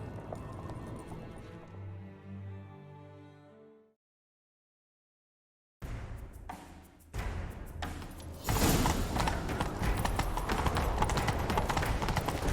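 Hoofbeats of a galloping horse in The Witcher 3 drum steadily, first over a musical backdrop, then after a brief silence amid louder, busier game action sounds.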